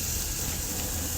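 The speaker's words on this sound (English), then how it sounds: "you hear that sizzle? That's what you're supposed to hear." Steak sizzling on the hot side of a grill: a steady, close, even hiss that holds without a break and with no voices over it.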